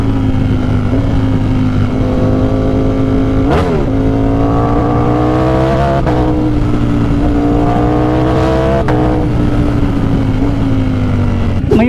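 A Ducati Streetfighter V4 1000cc motorcycle in race mode holds a loud, steady engine drone close by, with sharp blips and rising revs every few seconds.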